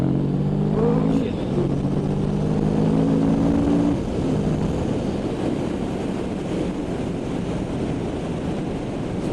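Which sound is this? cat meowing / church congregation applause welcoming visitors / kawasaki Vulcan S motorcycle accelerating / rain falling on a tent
kawasaki Vulcan S motorcycle accelerating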